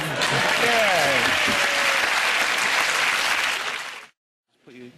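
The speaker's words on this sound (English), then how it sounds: "A round of applause for Mr. Steve." A studio audience bursts into loud applause for Mr. Steve, with voices calling out over the clapping, which runs steadily then cuts off abruptly, followed by a brief voice.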